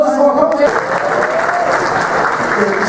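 Applause from a convention audience at a furry convention's closing ceremony, a close, dense burst of clapping with voices over it.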